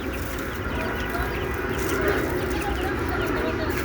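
A flock of 21-day-old chicks clucks and chirps in a busy, continuous chatter, close by and fairly constant, with no clear talking over it.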